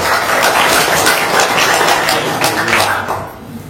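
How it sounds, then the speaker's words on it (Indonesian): Audience applause at an Indonesian gathering: a dense, steady wash of clapping that holds loud for about three seconds and then tapers off toward the end. "Tepuk tangan dulu untuk Haji Marco."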